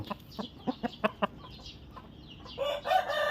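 A red Thai rooster lets out a quick series of sharp clucks, then a drawn-out crow near the end, loud and close.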